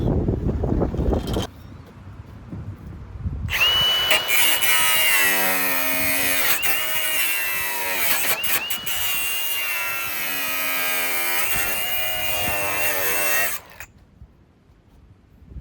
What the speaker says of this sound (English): Let's go ahead and cut our first patch panel out of this Chevelle and put it in another one.